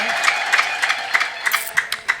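Church congregation at an Ethiopian Orthodox gospel service ululating and clapping in praise, a steady bed of high trilling voices with rhythmic clap bursts repeating about three times per second, crowd-like and fairly loud throughout.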